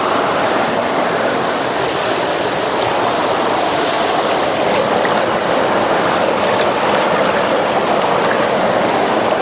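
Loud, continuous rush of a freshwater stream flowing over rocks, a steady broadband roar with no voices.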